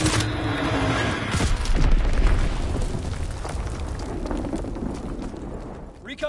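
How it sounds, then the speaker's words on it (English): A bomb goes off in a PS4 war video game as a sustained, loud, rumbling roar that fills the whole stretch and slowly fades. "Enemy bomb incoming."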